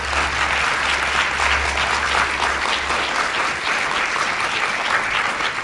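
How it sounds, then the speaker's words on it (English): Loud, sustained applause from an audience honoring veterans at a political gathering, dense clapping continuing evenly throughout with a low hum underneath. "Let's give all our veterans a round of applause."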